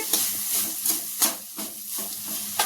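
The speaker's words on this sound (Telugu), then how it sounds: "అన్నమే ఇందులో వేసి కలిపేస్తాను బాక్స్లోకి" Cooked rice is stirred into amaranth leaves in a hot pan, with a steady steamy hiss and sizzle broken by repeated scraping stirs, close and loud, with no voices.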